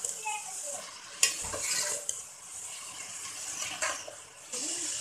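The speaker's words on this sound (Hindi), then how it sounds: "कीमा को खूब अच्छी तरीके से भून लेंगे" Minced meat for a spinach keema dish fries and is stirred in a pan, giving a steady soft sizzle broken by occasional scraping and clinking of the spoon against the pan.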